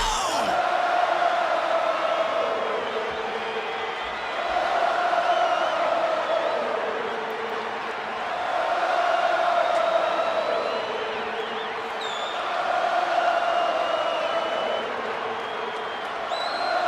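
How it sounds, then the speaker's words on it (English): A large arena crowd roars for a wrestler's entrance in WWE 2K25 during a WrestleMania event, a dense, sustained cheer rising and falling in slow waves. "And you hear the crowd's reaction to the architect."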